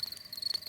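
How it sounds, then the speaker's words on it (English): A brief burst of crickets chirping, a thin high trill pulsing quickly, soft and steady with no voices. "That is the sound of crickets chirping"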